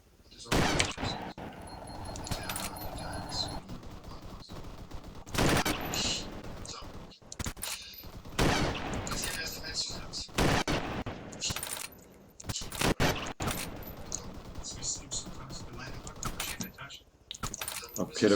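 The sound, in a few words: gunshots in video game ARMA 3 Epoch mod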